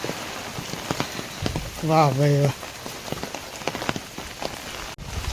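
Steady rain pours down at Songadh Fort, a dense, even patter and hiss that runs through the whole stretch while someone briefly speaks over it.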